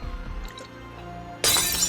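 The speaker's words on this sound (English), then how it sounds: "once Gary has smashed his first glass in the Mermaid" Glass smashes in a pub film scene as a sudden, loud, bright crash and shatter after a quieter stretch of background music, with no talk.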